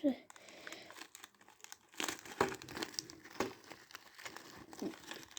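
Plastic wrapping on an old Mini package crinkles and crackles in close, irregular bursts as it is opened, with louder rustles toward the middle and end.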